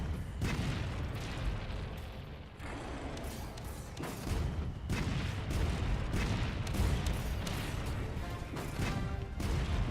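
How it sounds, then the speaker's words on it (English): Several cannons fire in Monster Hunter World, deep heavy booms landing one after another in an irregular barrage over a continuous rumbling battle din. "It's best to fire as many cannons as you can at a time"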